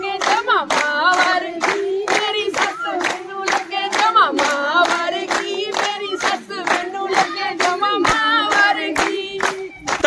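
Audience at a Punjabi Teeyan fair applauding, a dense run of sharp claps that carries on steadily and loudly across the stretch, with a steady tone held underneath and no talking.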